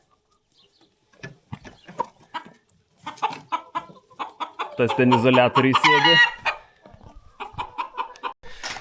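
Chickens clucking nearby in short choppy bursts, with a longer, louder squawking call in the middle and someone speaking briefly over them.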